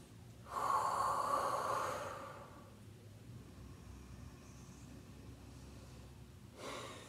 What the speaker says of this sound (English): A few breaths.